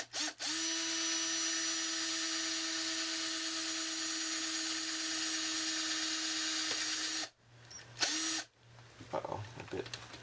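A power drill bores a hole in a mini cocktail arcade cabinet, whining loudly and steadily for about seven seconds, then stopping, followed by a short second burst and some handling clatter.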